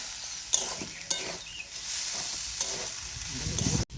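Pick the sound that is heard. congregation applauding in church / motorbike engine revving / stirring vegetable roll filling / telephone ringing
stirring vegetable roll filling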